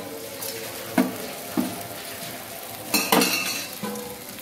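Paruppu adai dosa cooking in oil on a hot pan, with a soft steady sizzle under sharp clinks and scrapes of a utensil against the pan, no talking.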